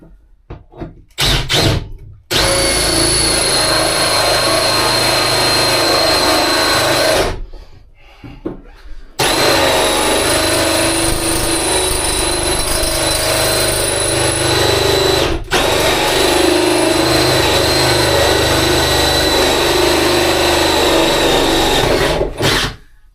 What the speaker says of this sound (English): I've got one last hole I need to drill at the top.